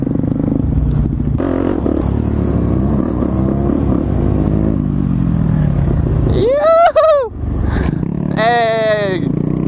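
An SSR street-legal pit bike pulls away, its small engine revving and rising in pitch twice in quick bursts near the end, with clattering and people talking over the idle before it leaves.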